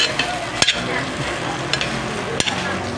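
Sisig sizzles steadily in a hot pan while a utensil stirs it, with a couple of sharp scraping clicks against the metal.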